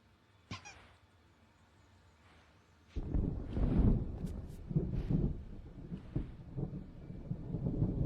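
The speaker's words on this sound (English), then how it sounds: "There's a storm coming." Deep rolling thunder from an approaching storm in Alan Wake, a sudden crack followed by a long rumbling swell that rises and lingers, loud against a quiet indoor backdrop.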